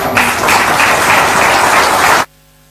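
Loud, dense audience clapping fills a hall at a government appointment letter ceremony, holding steady for about two seconds before cutting off abruptly into near silence.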